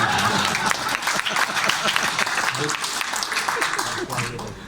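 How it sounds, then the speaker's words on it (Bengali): Audience clapping in a seminar hall at an event with a commerce minister as chief guest, a dense sustained round of applause at moderate distance. "তালি দিলে মন খুলে দেন"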